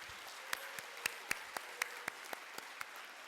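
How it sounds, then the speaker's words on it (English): Scattered applause from an audience at a school Martin Luther King Jr. celebration, individual claps spaced out and distinct over a faint background hiss, rather distant and soft. "let's give all of the schools a round of applause"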